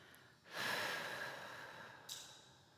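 A slow, steady exhale during a guided breathing exercise, rising at about half a second and fading gradually, with a second short breath near the end, quiet and close.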